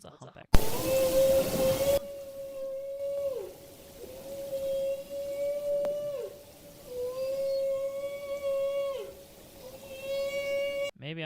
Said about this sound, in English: I don't even know if these are real whales.